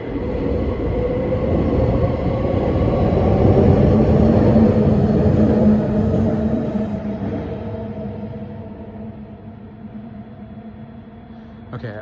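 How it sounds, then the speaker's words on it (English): A SkyTrain passes overhead along an elevated track among city high-rises, a loud rolling rumble that swells to a peak midway, then slowly fades as the train moves off, with no talk. "here's the SkyTrain"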